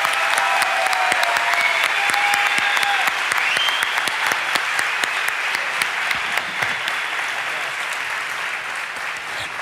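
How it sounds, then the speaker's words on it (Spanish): An audience applauds to welcome a guest onto a stage, with loud, steady clapping and sharp individual claps that ring out clearly and ease slightly toward the end. "Un aplauso, por favor"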